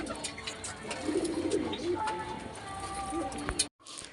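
A pet pigeon, once rescued from a dog, gives soft, low, repeated coos nearby, with light rustles and movement around it before a brief cutoff.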